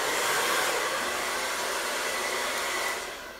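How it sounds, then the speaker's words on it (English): A blow dryer runs steadily at close range as it dries hair, a loud continuous rushing whir that holds for a few seconds and then starts to fade as it is switched off, with no talking. "And then I'm going to turn my blow dryer off"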